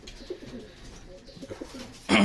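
Racing pigeons back from a race cooing softly in a loft, low soft coos throughout with a loud, sudden burst of noise at the very end.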